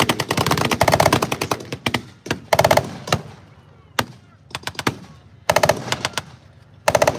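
Rapid bursts of machine gun fire from an MG-34 or MG-42 mounted on a half-track at a tank weekend battle reenactment, loud and close, several long rattling strings with short pauses between.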